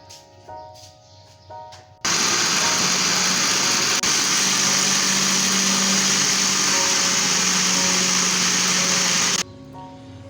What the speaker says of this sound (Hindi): अब जो है अच्छे से इसको ग्राइंड कर लेंगे।